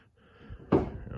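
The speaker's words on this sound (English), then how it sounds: "Listen to that door shut." A single solid thump of a 1966 Chevrolet Impala door shutting, short and muffled, after a quiet lead-in with a faint low background.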